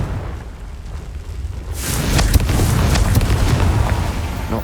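In the Hogwarts Legacy video game, a Confringo blasting spell sets off an explosion partway through: a loud, sudden boom, then a dense crackling, rumbling roar that holds to the end.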